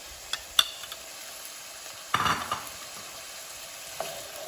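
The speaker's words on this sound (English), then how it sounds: "you wanna mix that up. Make sure that every piece of potato is coated in this mixture." Potatoes coated in a spice marinade are stirred in a pan for tacos, soft sizzling with a few sharp utensil taps and a brief burst of scraping, quiet and close.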